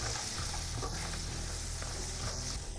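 Cashews, garlic cloves and a piece of ginger roast in a pan with a soft, steady sizzle and occasional stirring scrapes, close and continuous with no talking.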